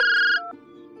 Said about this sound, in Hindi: अरे तेरे अब्बू का फोन तो यहीं पे बज रहा है।